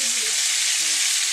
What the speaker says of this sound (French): C'est une friture rapide simplement pour permettre précisément de dorer et de compacter la boulette